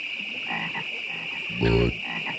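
Frogs in a Budweiser Super Bowl commercial give a few croaks over a steady background drone, with one loud, deep, close croak standing out near the end.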